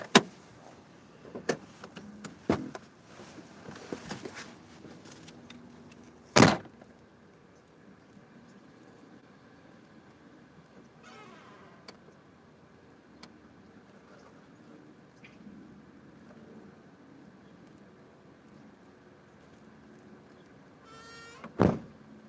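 Something is taken out of a car trunk: scattered close clunks and rustles, then a sharp thud, a long faint quiet stretch and another bang at the end.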